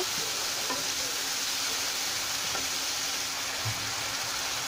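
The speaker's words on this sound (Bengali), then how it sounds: "এখন ভালো করে একটু কষিয়ে এর মধ্যে আমি ডালগুলো দিয়ে দেব" Spices and green chillies frying in a pan, a dense, even sizzle that holds steady throughout with only faint occasional stirring knocks.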